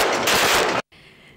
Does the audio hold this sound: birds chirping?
no